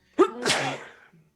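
One short, sharp human sneeze, close and clear, with a sudden onset and a breathy tail that fades within about a second.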